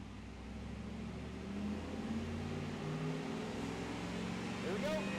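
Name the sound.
stock 1995 Chevrolet Camaro Z28 engine revving on a dyno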